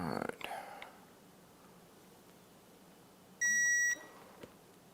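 Digital torque wrench reaching its 25 foot-pound target with a single short electronic beep, faint and alone after some brief handling noise at the start.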